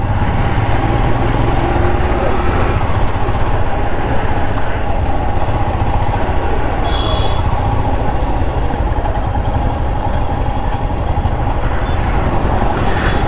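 A Royal Enfield Himalayan BS6 motorcycle with an air and oil cooled engine drones steadily while ridden through city traffic, a loud continuous rumble with road noise around it.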